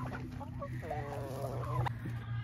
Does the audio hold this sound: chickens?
yes